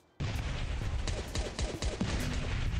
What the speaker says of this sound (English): Let's throw the nade.